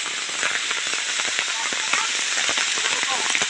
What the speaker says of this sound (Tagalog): habang tumatagal, lalong lumalakas ng ulan